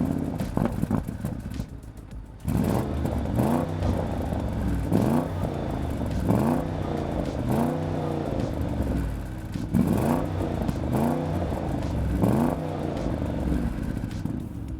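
An Audi RSQ8 SUV drives on the road, its engine droning steadily from inside the cabin with repeated rises and falls in pitch as it accelerates through gears, alongside road rumble and no talking.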